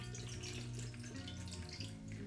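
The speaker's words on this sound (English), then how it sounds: "I will be covering it with some cold water." Cold water poured from a tap over leaf gelatin in a small bowl, a steady close running flow with no talking.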